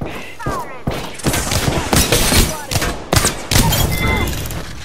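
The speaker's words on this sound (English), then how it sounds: "I'm getting shot at." Rapid bursts of gunfire rattle through a video game shooter match, volleys and single cracks overlapping with thuds and booms, loud and close. Voices talk over the firing.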